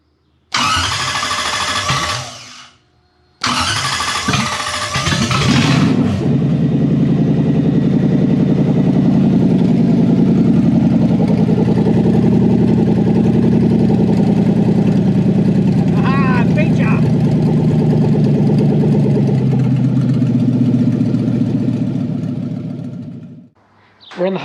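A Lamborghini replica kit car with a Toyota 1UZ V8 engine cranks twice with whirring starter bursts, then catches and settles into a loud, steady idle with slight revs, running close by until it shuts off.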